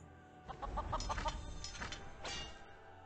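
A chicken in the card game The Elder Scrolls: Legends lets out a short run of clucks, four or five quick bright notes followed by a couple of squawks, fairly close and clear over a soft game background.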